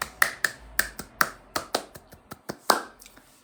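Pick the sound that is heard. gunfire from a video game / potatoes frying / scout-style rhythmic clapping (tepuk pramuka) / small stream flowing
scout-style rhythmic clapping (tepuk pramuka)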